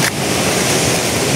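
Rushing water at Kawasan Falls in Cebu, a loud dense continuous roar close by, with no voices over it.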